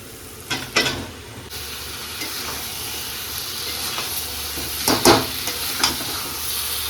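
Potatoes tossed into sizzling spice masala with salt, green chillies and chilli powder for a jackfruit and prawn curry: a few sharp clatters and stirs, then a loud, steady hiss of frying close by.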